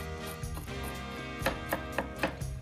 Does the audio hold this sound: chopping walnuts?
yes